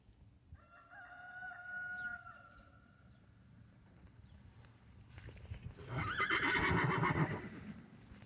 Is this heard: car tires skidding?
no